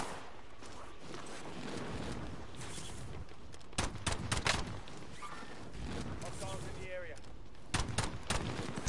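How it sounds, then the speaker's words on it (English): Another player's gunfire in an online shooter crackles in two short, sharp clusters of shots, fairly distant and quiet, under someone talking over voice chat. "Some cunt's trying to shoot me out there"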